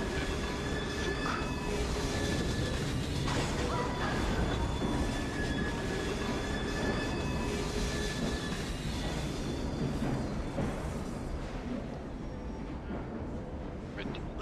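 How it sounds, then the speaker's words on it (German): Inside a moving train in the video game Assassin's Creed Syndicate, a loud, continuous rumble of wheels and carriage fills the scene, with faint rail clatter and occasional squeals throughout. "Wir befinden uns im Zug."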